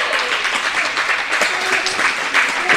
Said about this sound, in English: what you heard in the background there was a big cheer